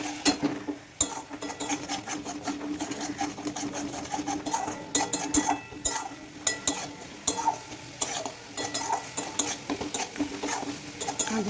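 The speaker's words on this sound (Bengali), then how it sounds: "তড়কা মশলা আর একটু জল দিয়ে আমি আবারও ভালো করে এটাকে কষে নেব।" Egg tarka masala being stirred with a little water in a pan, a steady scraping of a spoon against metal over soft bubbling sizzle, with repeated clinks throughout and no talking.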